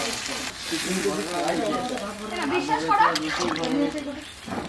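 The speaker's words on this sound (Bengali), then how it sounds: "জলটা দিয়ে দিচ্ছি" Water poured into a hot pan on a wood-fired stove in a village kitchen bursts into a steady sizzle and bubbling, partly under nearby voices talking.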